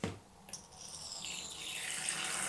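Water pours steadily into a tarantula enclosure housing a Brachypelma albiceps, a close, continuous splashing trickle that begins after a brief thump and grows slightly fuller over a couple of seconds.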